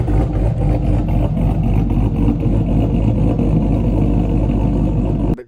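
An LS V8 in a drift car revs hard and continuously at close range, a thick, loud engine roar that cuts off abruptly near the end.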